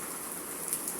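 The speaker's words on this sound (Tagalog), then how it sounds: "continuous pa rin ang ulan mga idol" Steady rain pours down beside a creek in a continuous dense hiss, fairly loud and close, with no voices.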